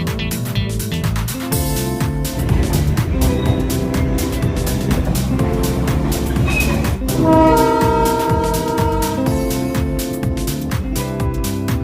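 The Darjeeling toy train runs through town streets and past houses, sounding its horn in loud, repeated tonal blasts over the chugging and rattle of the cars, all close and continuous.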